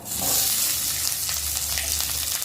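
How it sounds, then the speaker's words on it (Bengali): Chopped garlic and green chillies frying in oil in a kadai in a village kitchen, a loud, steady hiss of sizzling that carries on without pause, with no talking. "কুচানো রসুন কাঁচা লঙ্কা"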